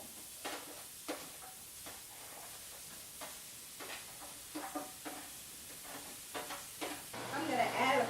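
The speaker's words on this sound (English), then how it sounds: "you should have got a really good sizzle going" Vegetables sizzle softly in hot oil in a pan, a faint steady hiss broken by clattering stirs and utensil knocks, with a louder crackling flare near the end.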